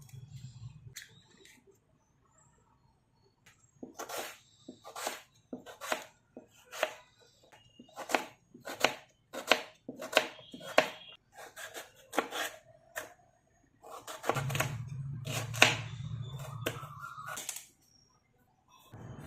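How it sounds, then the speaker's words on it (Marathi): A knife chops raw mango into pieces on a board, giving a long run of close, sharp, irregular cutting taps with a brief steady rumbling stretch partway through and no talking. "आता आपण याची फोडी करून घेणार आहोत"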